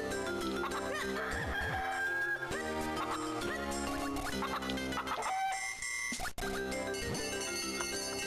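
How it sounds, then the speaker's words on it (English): Chickens cluck and crow in the Zelda: The Minish Cap video game, mixed continuously under busy, loud game music throughout. "Do you want your chickens or not?"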